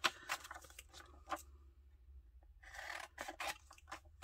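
Scissors snip through paper photos in quick, close, crisp bursts of cutting and rustling, a brief quiet pause, then another run of sharp snips.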